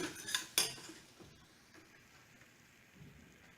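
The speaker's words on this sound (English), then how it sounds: "I've been stirring our mixture here for about a couple minutes" A flour roux for mac and cheese is stirred in a pot, two sharp metallic clinks of the utensil at the start, then a quiet soft scraping hush.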